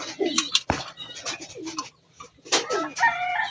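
A hen racing pigeon coos in a loft, giving a few throaty, rolling calls close by, with a short pause before another burst of cooing.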